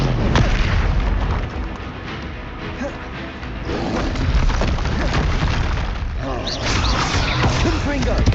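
Confringo blasting-spell explosions in Hogwarts Legacy: loud booming bursts and crackling impacts roll through a busy combat mix, with voices shouting over the blasts.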